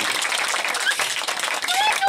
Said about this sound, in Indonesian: Tepuk tangan dong kita.